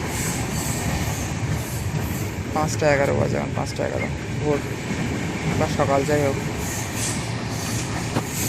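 A passenger train runs through Uttar Pradesh with a steady rumble and rhythmic wheel clatter. Someone talks loudly over the noise throughout.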